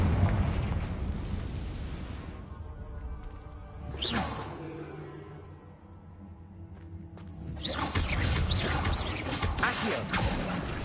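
The Confringo fire spell goes off in the Hogwarts Legacy video game with whooshing bursts and explosive booms, a sharp blast in the middle and a dense rumbling burst near the end.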